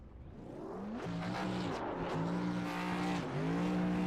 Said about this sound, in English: Going to get the burnouts out of the way